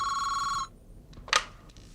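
An electronic telephone bell trills steadily, then stops, followed by a brief handset click and a short clatter as it is picked up; a quiet indoor scene from a classic Indian TV serial, no voices.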